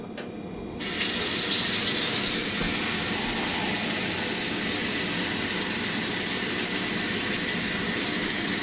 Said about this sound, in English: We want 2 more cups of water.